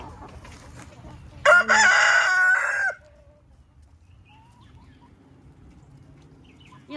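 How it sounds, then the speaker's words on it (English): A backyard flock of roosters and chickens: one loud rooster crows close by for about a second and a half, then it goes quiet apart from faint clucks and distant calls, with soft outdoor background noise. "they got my roosters going crazy"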